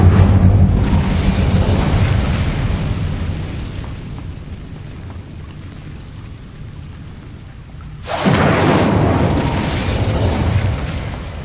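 Incendio fire spell in Hogwarts Legacy, a loud roaring blast of flame that rumbles and fades over several seconds, then a second surging whoosh of fire erupts and sustains to the end.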